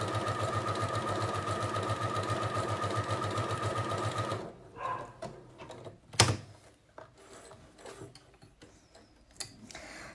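A sewing machine runs a blanket stitch while quilting, a steady fast rhythmic whirring and ticking for about four seconds, then stops, followed by quieter handling clicks and a sharp knock.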